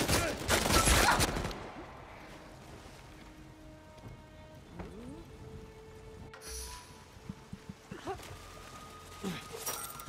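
Scattered distant gunfire in Uncharted 4 multiplayer, a loud burst at the start followed by faint sporadic shots and impacts beneath quiet talk.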